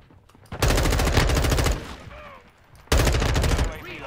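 Rapid automatic gunfire in the Modern Warfare 2 video game, two loud sustained bursts separated by a brief lull with quieter game sounds.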